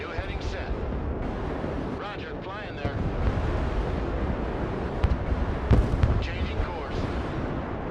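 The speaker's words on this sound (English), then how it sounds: "That might actually be a nuke early on." Rumbling nuclear blast in the Broken Arrow war video game, a loud, dense, roaring wash with booming bursts partway through, heard under a voice talking.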